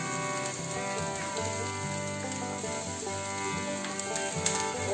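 Carrots and onion fry in a pan for a dosa filling, with a steady, close sizzle that runs unbroken from start to finish.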